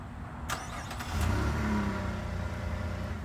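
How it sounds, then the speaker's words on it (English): A 2016 Chevrolet Colorado LT Midnight Edition engine turns over by remote start and settles into a steady mid-pitched idle, a brief rise as it catches, heard fairly close with no talk. "This vehicle comes equipped with a multifunction remote, which includes remote start."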